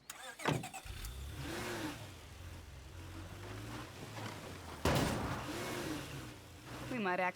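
A car engine cranks and starts in the State of Decay 2 zombie survival game, then runs steadily throughout, with game voices talking over it and a second burst of noise near the end.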